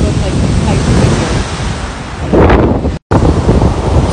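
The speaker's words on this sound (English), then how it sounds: "For example, right now it's windy." Strong wind blowing outdoors, roaring steadily and loud with gusty surges and heavy buffeting of the microphone, sounding almost like surf, with a brief dropout near the end.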